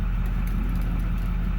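A 2008 diesel pickup truck with a 6.4 litre engine and bad turbo seals idles steadily at close range, giving an even low rumble with no revving and no voices.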